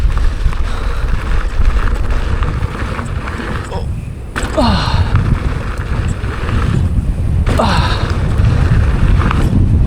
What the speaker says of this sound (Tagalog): Wow, lakas ang hangin, no?